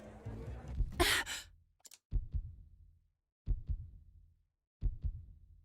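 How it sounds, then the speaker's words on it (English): Heartbeat effect in the video game Octopath Traveler, soft low double thumps repeating at slow, even intervals after a brief breathy sound, quiet and isolated. "Oh, and we get like a heartbeat sound there."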